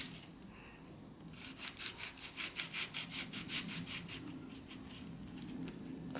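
A knife cuts food crosswise into slices with quick, rhythmic back-and-forth strokes, a dozen or so close, soft rasping pulses over a faint background hum.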